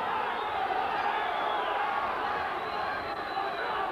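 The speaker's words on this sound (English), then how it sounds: "a tremendous ovation from the crowd" A large crowd roars and cheers at a 1983 light middleweight boxing final, a dense, steady wall of applause and shouting filling the hall throughout with no letup.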